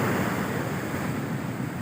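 Ocean surf washing onto a beach in Casiguran, Aurora, a steady, loud roar of breaking waves with wind noise buffeting the microphone, no voices.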